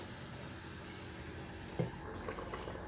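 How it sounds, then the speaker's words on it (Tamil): A pot of water for prawn biryani bubbles steadily at a rolling boil, with a soft low rumble and a few small splashy bursts near the end. "இப்போ நல்லா கொதிச்சிட்டு வருது."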